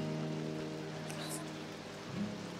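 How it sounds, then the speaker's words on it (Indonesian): Steady rain falls in Luang Prabang, a soft continuous patter heard at low level for a few seconds, with a brief faint voice or movement in the background. "Hujannya awet banget."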